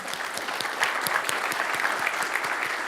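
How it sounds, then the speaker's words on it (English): Steady applause rises from the audience at a Kubernetes contributor summit, dense, even clapping throughout with sharp individual claps standing out close by. "Can we get one more round of applause for that?"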